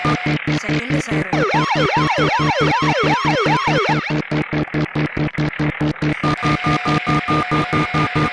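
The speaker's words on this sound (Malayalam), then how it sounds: "Second siren." A toy's built-in speaker plays a loud, rising-and-falling emergency siren. It wails in quick repeated sweeps over a steady, pulsing electronic beat, then changes to a flatter tone near the end.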